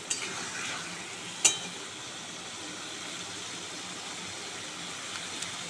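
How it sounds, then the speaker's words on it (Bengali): Potatoes being sautéed and stirred in a pan give a faint, steady sizzle with a couple of sharp utensil knocks against the pan. "আলুটা দিয়ে ভালো করে আমি কষিয়ে নেব"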